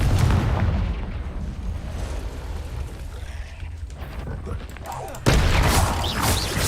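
Confringo fire spell explosions in Hogwarts Legacy, a loud, continuous rumbling blast with booming low end, swelling again with a sharp new burst near the end.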